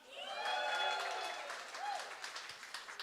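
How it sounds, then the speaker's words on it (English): Audience applause at a fashion show at the Walker Art Center, fairly quiet and distant, with cheering voices and a whoop rising above the clapping before it thins into scattered claps. "Round of applause for all of you."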